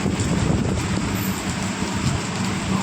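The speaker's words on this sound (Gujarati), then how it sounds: "વરસાદ ચાલુ થઈ ગયો ગજબનો" Rain falls beside a highway as a steady, dense hiss mixed with wind rumble, constant and fairly loud throughout, with no speech.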